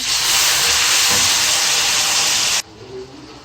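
Garlic-ginger paste dropped into hot oil with golden fried onions bursts into a loud, steady hissing sizzle that cuts off abruptly, leaving a quieter crackle afterward.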